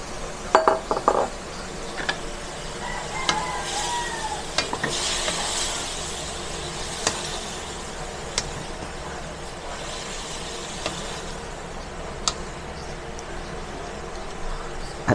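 Bihon noodles stir-fried in a pan with upo and shrimp, steady sizzling under repeated scrapes and sharp clinks of a utensil against the pan.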